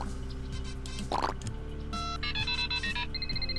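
A telephone rings in the video game Strong Bad's Cool Game for Attractive People, a series of bright electronic trills over a steady humming game backdrop, preceded by a short bubbly plop.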